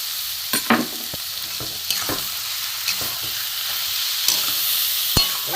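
Semolina and sugar frying together with grated carrots in a pan for carrot laddu, making a constant sizzle broken by sharp spatula scrapes and taps against the pan.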